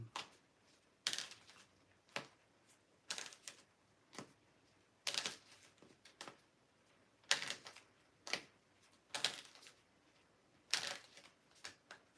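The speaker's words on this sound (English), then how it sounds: "I gotta shuffle up these cards." Quiet, sharp riffling bursts recur every second or so, like a deck of playing cards being shuffled and bridged, with soft handling noise in between.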